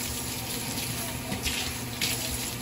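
Tap water runs steadily into a sink or basin during a hair wash, a continuous close splashing rush with no breaks and no talk.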